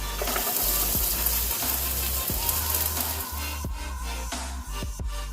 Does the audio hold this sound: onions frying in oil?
yes